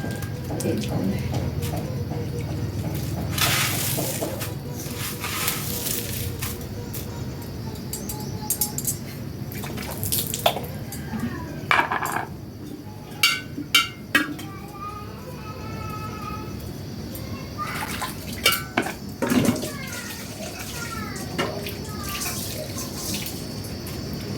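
Water running and splashing while someone bathes by pouring it over the body, a continuous wash of flowing water with intermittent splashes and drips, and voices talking at times underneath.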